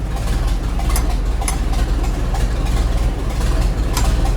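A 1928 Ahrens-Fox N-S-4 combination pumper fire engine idles on magneto with a low, steady, slightly rough rumble and faint periodic ticks, loud and close with no talking.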